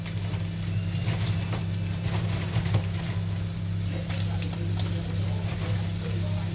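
Peppers, carrots and courgettes cook in a pan with a steady, soft sizzle and occasional stirring scrapes, while a constant low hum runs underneath throughout.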